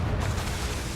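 A Confringo spell explodes in Hogwarts Legacy on Nintendo Switch, a loud booming burst with a full low rumble that fills the whole moment.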